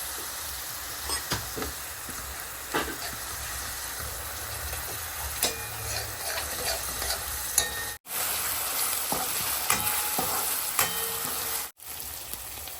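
Ginger, chili and garlic paste sizzles steadily in a hot pan for a pigeon pea totha dish, with a spoon scraping and stirring through it and two brief silent breaks.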